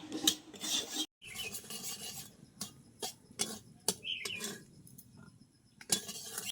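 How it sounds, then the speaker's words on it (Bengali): Semolina scraped and stirred in a pan while dry-roasting to a deep red, giving rasping, gritty strokes in irregular bursts with short quiet gaps, close and fairly soft. "সুজিটাকে আমরা একদম লাল করে ভেজে নেব।"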